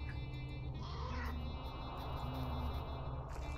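Several cats meow in the Lord of the Rings Online video game, a couple of plaintive mews over a steady droning ambient background, moderately close.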